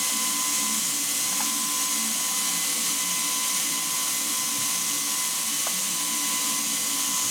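A belt grinder edge-profiling a custom knife makes a continuous bright, hissing whine up close with a faint steady tone, holding nearly constant and loud throughout.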